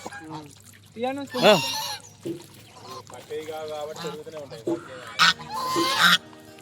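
Ducks at the Chaya Someswara temple pond in Panagal, Nalgonda, give loud, nasal honking quacks in several bursts, some harsh and close, with short gaps between calls.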